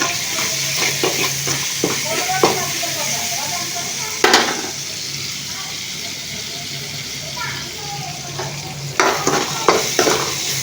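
Amaranth leaves fry in a pan, a continuous sizzle broken by bursts of spatula scraping and stirring, fairly loud and close, with a person talking over parts of it.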